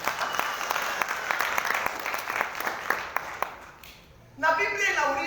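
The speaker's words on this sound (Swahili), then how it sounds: "Tupigie Bwana wetu makofi mengi" Church congregation clapping steadily at a Sunday service for about four seconds, dense and fairly loud, then fading out before a voice starts speaking near the end.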